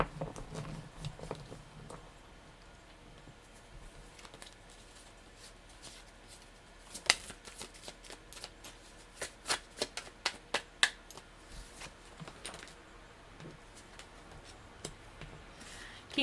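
Tarot cards being shuffled by hand, a light rustle at first, then a dense run of crisp snapping riffles and flicks, close and quiet with no speech.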